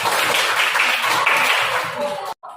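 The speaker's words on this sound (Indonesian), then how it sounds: "Tepuk tangan untuk Alif." Classroom applause for a student: a short burst of clapping from a group of pupils, fairly loud and close, fading out and cutting off abruptly near the end.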